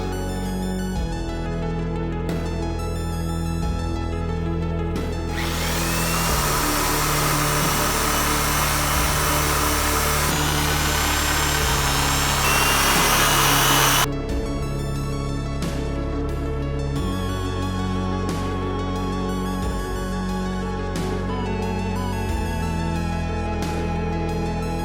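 A power drill bores into a Lexus LS400 while rear VIP tables are fitted. It gives one sustained, loud burst of about eight seconds over steady background music, with quieter stretches before and after.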